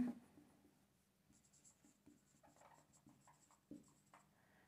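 A pen or chalk writes notes during an electronics lecture on semiconductor diodes, giving faint, close scratching strokes in short, irregular bursts with no talk over them.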